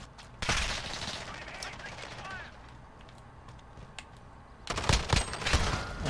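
Desert Eagle pistol shots in the video game Modern Warfare 2, a sharp burst near the start and a louder cluster of shots near the end, with quieter game noise and a voice between them.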